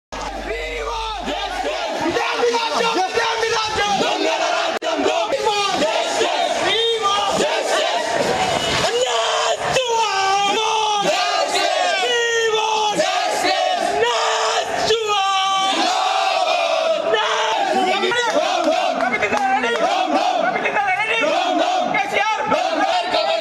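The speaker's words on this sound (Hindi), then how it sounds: "ख़िलाफ़ नारेबाजी की गई।" Protesters staging a sit-in near the education minister's residence in Hyderabad chant slogans against the government, a loud dense crowd of massed yelling voices in rhythmic call-and-response bursts, continuous throughout.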